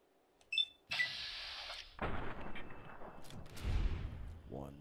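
Gunshot from Fallout: New Vegas, one sharp loud report followed by a broad rumbling decay, set among other brief game sounds with no talk.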